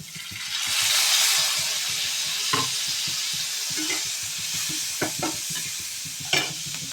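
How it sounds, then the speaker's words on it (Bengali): Onion sautéing in hot oil in a pan with soy sauce being added, a loud steady sizzle close up with scraping stirs and a few sharp knocks of the utensil, no voices. "তেলে ভালো করে সটে করে নেব। এবার দেব সয়া সস"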